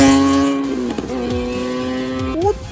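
A Porsche racing a Kawasaki Ninja ZX-10R accelerates hard with a loud, close engine note that climbs steadily in pitch and shifts through gears. The engine sound carries on alone.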